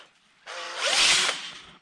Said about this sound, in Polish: Można kręcić wkrętarką. Kawałek gwoździa, wkrętareczka,